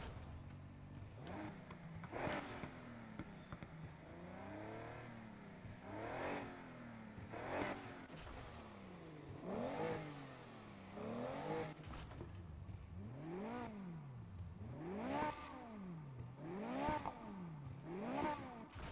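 A video game car engine, tuned with forged induction, revving repeatedly in rising and falling sweeps, with quick up-and-down bursts through the gears and no talking.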